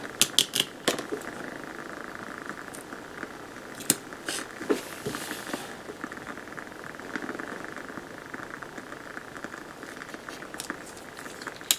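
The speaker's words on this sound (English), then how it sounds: "I'm wondering if y'all can hear that candle. It's a woodwick candle." A woodwick candle crackles with small, irregular pops and ticks over a steady background hiss, near and fairly clear, with no talking.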